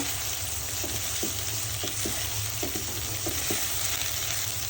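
A cut tomato fries in a pan under a constant, loud sizzling hiss, with soft, occasional stirring taps.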